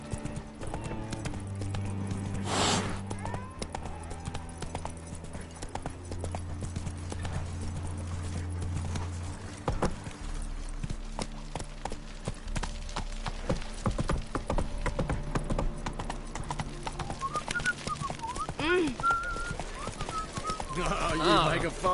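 Roach the horse trotting in The Witcher 3, with steady clip-clop hoofbeats running throughout under a background of game music and occasional voices.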